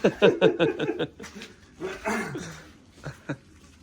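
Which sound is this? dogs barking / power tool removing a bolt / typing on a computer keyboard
dogs barking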